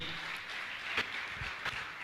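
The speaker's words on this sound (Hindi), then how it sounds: "आप जोरदार ताली बजाकर इनका सम्मान करें" An audience at a spiritual discourse gathering claps steadily throughout, a dense, fairly distant patter of many hands with a few sharper claps standing out.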